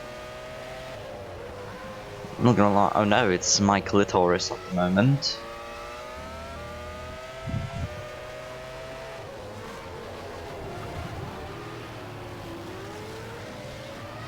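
Race cars in a racing game lap the Aegna Saar circuit, a steady engine drone running underneath a commentator who talks throughout.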